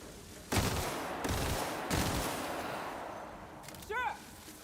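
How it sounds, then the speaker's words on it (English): Covering gunfire in The Outer Worlds: three loud bursts of shots a little over a second apart, each trailing into a noisy rumble, followed by a short chirping sound near the end. "Covering fire!"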